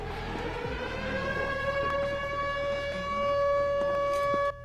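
Steady droning sirens hold several sustained tones, continuous and fairly loud, with faint knocks in the background.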